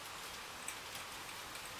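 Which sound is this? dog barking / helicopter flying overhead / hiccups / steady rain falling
steady rain falling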